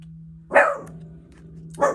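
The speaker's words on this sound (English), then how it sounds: "And I apologize for the background doggy noises." A dog barks twice in the background of a quiet indoor room, two short loud yelps with a low steady hum underneath.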